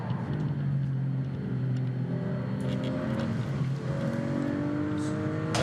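A 2003 ex-Troy Bayliss Ducati MotoGP bike pulls away from the start line at a hillclimb festival, its steady engine drone rising in pitch through the gears, heard continuously with crowd noise around it.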